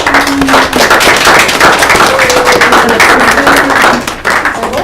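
Loud, dense applause fills a room of French speakers, steady rapid clapping from a sizeable group with a few vocal whoops riding on top throughout.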